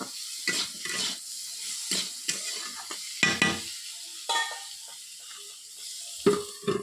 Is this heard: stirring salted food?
yes